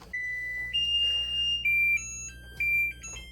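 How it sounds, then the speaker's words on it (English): A kitchen timer alarm goes off while a quiche bakes, a series of sustained electronic beeps that jump between pitches, clear and close over a faint steady hum. "Okay, timer's going off."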